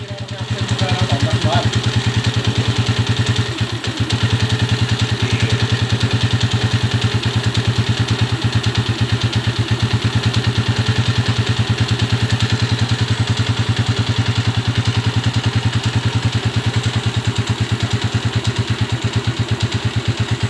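A repaired engine idles smoothly and steadily close by, a rhythmic low thrum with even pulses, while people talk briefly over it.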